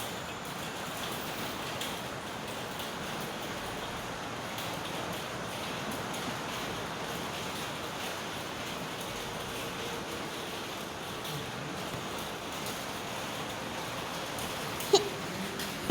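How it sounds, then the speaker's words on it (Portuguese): Steady rain falling throughout, a continuous broadband hiss at moderate level with no breaks, heard alone with only a faint tap near the end. "Chuva abençoada,"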